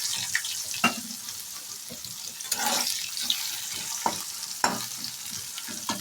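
Chopped onion and black cumin fry in hot oil in a kadai already heated from frying fish, giving a continuous crackling sizzle with sharp stirring clacks scattered through it.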